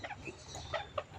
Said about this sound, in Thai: เป็นไก่เลี้ยงไว้ดูเลยเนี่ยเนาะเลี้ยงไว้ เป็นเพื่อนเล่นในบ้านแก้เหงาได้